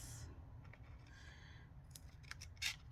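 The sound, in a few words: scissors cutting junk mail paper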